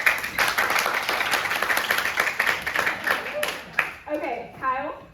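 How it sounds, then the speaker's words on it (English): A church audience claps warmly for a volunteer called up front, a burst of dense applause that fades after about three seconds, followed by someone speaking. "Can we clap for Kyle?"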